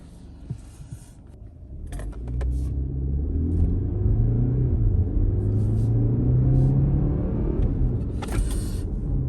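A BMW X4 20i with a variable exhaust in sport mode gives a low, steady rumble that swells after a couple of seconds into a sustained, throaty drone, close and loud, with no talk.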